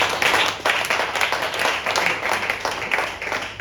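A church congregation applauds in steady, dense clapping throughout, loud and close, with no pauses.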